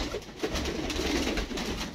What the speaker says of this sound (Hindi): ये हरा कबूतर देखें